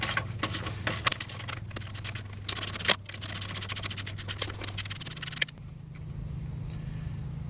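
Ratcheting socket wrench loosening transfer case bolts on a 1997-2001 Jeep Cherokee XJ with an NP242 case, giving dense close clicking and scraping bursts that stop abruptly near the end, leaving a steady low hum.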